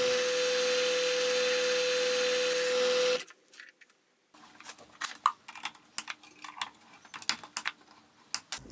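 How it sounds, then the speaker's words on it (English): A milling machine cutting a small standoff that will be threaded into the bottom of a lead screw gives a loud, steady whine with a sustained tone for about three seconds, then stops. Scattered light clicks and taps follow. "I'll finish machining the standoff, which will then get screwed and loctited into the bottom of the lead screw."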